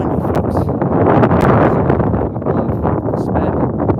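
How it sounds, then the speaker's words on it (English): Steady, loud wind buffeting the microphone in a blooming apple orchard, a continuous rumbling roar with gusty surges and no voices. "So it's windy, folks."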